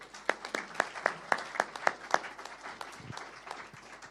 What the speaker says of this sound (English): A bit quicker with the clapping would be nice.